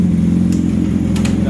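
Gen 2 Hayabusa motorcycle with a full Brocks exhaust and Moore Mafia tune, idling with a deep steady low rumble, close and fairly loud, with faint clicks over it.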